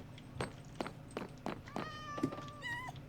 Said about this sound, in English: Look, there's a cat in there.